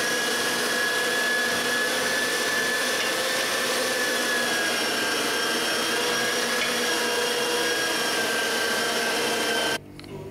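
Meat mincer grinding venison for homemade sausage, a steady loud motor whine with a high tonal hum running continuously, cutting off abruptly near the end.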